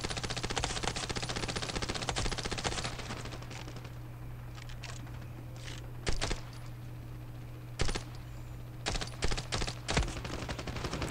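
A P90 submachine gun fires in the mobile shooter Standoff 2, one long rapid burst opening the clip and then several short bursts at intervals over faint background game noise.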